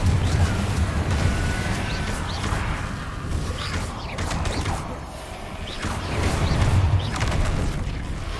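Spell blasts from Hogwarts Legacy crack out in rapid succession, Confringo fireballs bursting in loud booms and whooshes amid continuous battle clamour, with brief spoken spell incantations between hits.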